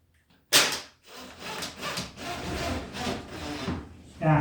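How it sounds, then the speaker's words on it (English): A wood screw is driven at an angle into timber to tack down a base plate, giving a short sharp start followed by a rough, grinding, rasping twist that continues steadily before a final louder turn. "Start off at an angle like that, let the screw grip, and then twist the screw up."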